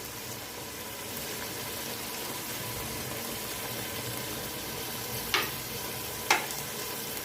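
Raw onion, ginger and green chilies sizzle steadily in a hot pan while mutton karai is being cooked, a continuous close frying hiss with two sharp clinks near the end.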